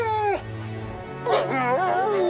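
A wolf whines and whimpers in two high, wavering bursts, the first sliding down and stopping short, the second rising and warbling after a brief lull, close and clear.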